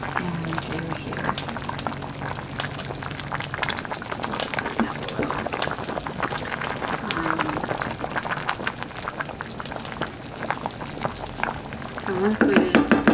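A pot of potato leek soup bubbles toward a boil, a steady close patter of popping bubbles and liquid churning that swells louder near the end, with a voice talking over it at times.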